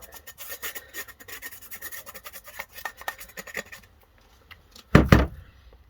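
Burnt toast is scraped off parts of a dismantled toaster in a rapid, close rasping that continues for a few seconds, then stops, followed by a short, loud clatter.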